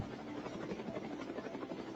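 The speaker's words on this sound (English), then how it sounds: "they released a video of a helicopter landing on a ship" A helicopter landing on a ship, its steady rotor beat and engine buzz droning evenly throughout at a moderate distance, with no talking.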